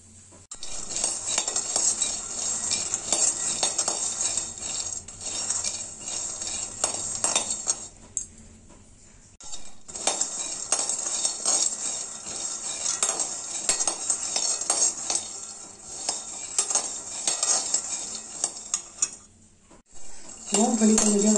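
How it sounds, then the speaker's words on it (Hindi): A cup of peanuts being dry-roasted over medium heat in a hot kadhai, with constant rattling, clinking stirring and scraping of metal on metal, loud and close, broken by a short pause near the end. "मूंगफली को मीडियम आंच में भूनेंगे और लगातार चलाते रहेंगे।"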